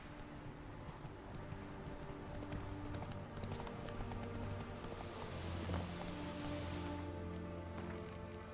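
The horse Roach gallops in The Witcher 3 video game, its hooves beating a steady clip-clop rhythm that stays faint and low in the mix beneath sustained background music.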